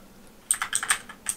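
A handful of quick, crisp clicks from a Jixian blue switch mechanical keyboard, pressed in an irregular burst after a short quiet pause, close and fairly loud.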